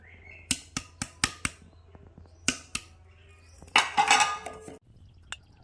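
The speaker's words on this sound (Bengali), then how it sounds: "গুঁড়ো করা চিনিটাকে আমি এর সাথে খুব ভালো করে মিশিয়ে নিচ্ছি" Crushed biscuit powder and powdered sugar being mixed in a bowl for a chocolate biscuit cake, heard as a series of sharp clinks and scrapes of a spoon against the bowl, then a brief rustling burst, close and fairly quiet.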